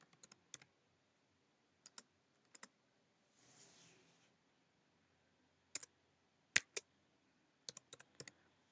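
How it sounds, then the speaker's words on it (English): Quiet computer keyboard typing in short separated bursts of clicks, with a brief soft rustle midway, while someone enters an out-of-office autoresponder message in cPanel. "then you type the message that you want the email senders to see."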